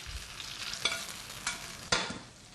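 Roasted tomatoes tipped onto a salad and mixed: soft, faint scraping and tumbling, with a few sharper brushes of utensils against a bowl at irregular intervals, close by and no speech.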